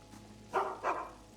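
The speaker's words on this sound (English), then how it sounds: "Stupid dog." Dog in the video game Skyrim gives two quick, close barks about a quarter second apart, with near silence before and after.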